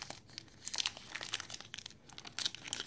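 A foil pack of 2019 Topps Archive baseball cards is torn open and crinkled close up, a quiet flurry of rapid crackling rips without any talking.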